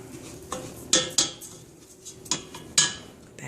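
Laundry sauce being stirred in a pot on the stove: a utensil clinks and scrapes against the pot in irregular sharp knocks over a faint background hum, with no talking.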